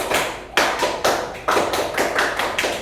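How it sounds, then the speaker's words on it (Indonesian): Indonesian scout rhythmic clapping, tepuk pramuka, by a class, heard as a loud, close patterned burst of sharp claps in quick groups, repeated in a steady rhythm with no talking. "3 kali tepuk pramuka"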